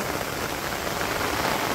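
Steady rain patters across a Bangladeshi village, a quiet, even hiss of drops on surfaces, nearby and without voices.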